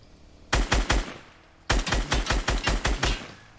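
Two loud bursts of rapid gunfire in Fortnite, three shots and then about eight, fired in a quick rhythm with a short pause between them.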